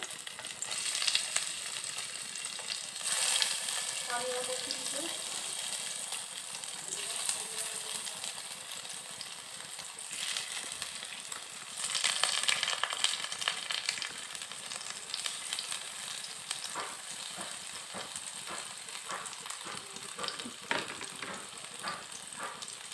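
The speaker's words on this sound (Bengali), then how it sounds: "ভাপা ডিমগুলো একটু ভেজে নেব" Steamed egg pieces frying in mustard oil in a pan, a steady close sizzle with bursts of louder crackling and occasional soft scrapes and clinks of stirring.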